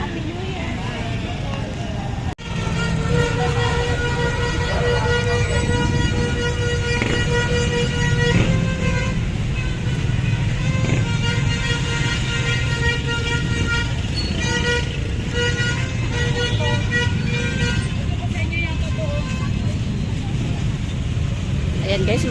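Busy Philippine street traffic crawls past with cars, trucks and tricycles, a constant engine rumble punctuated by repeated toots and honks from nearby vehicles, with people talking throughout.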